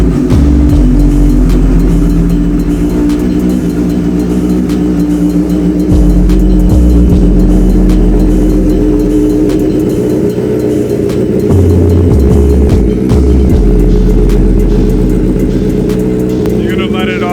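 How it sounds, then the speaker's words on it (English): A Honda CBR1000RR sport bike engine, 2008–2016 generation, fires up from cold and settles into a loud, steady idle with a few brief blips of revs, while someone talks over it. "here goes a quick cold start for you guys"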